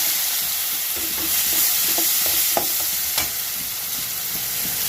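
Oil sizzles steadily in a pan frying chopped onions, with occasional scraping and stirring clicks from a spoon cutting through the constant hiss.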